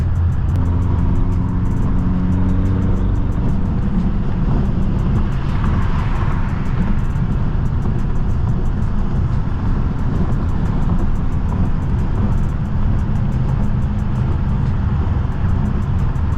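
A tuned 800 hp BMW M6 cruises through New York City streets on the FDR, its engine a steady, loud, continuous drone with road and wind roar and no voices over it.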